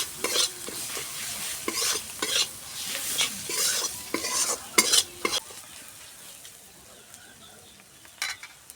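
Chicken feet sauté in a pan with salt, chili powder and cumin paste, a spoon scraping and stirring in quick repeated strokes over a light sizzle for several seconds, then quieting to a faint hiss with one last scrape.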